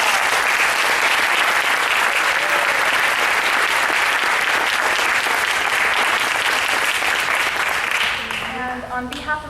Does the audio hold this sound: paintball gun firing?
no